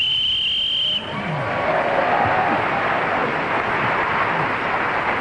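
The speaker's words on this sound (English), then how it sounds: "that extra loud cheer from the audience came for Jane Gibson for the way she blew her whistle then" A studio audience at a British radio panel game lets out an extra loud cheer, a dense roar of applause and cheering that starts abruptly after a whistle tone and holds steady.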